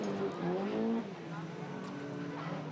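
Danny de Beukelaar's Opel Corsa rallycross car races past at a 2015 rallycross round in Maasmechelen, its engine droning loud and steady with shifting pitch while a commentator talks over it.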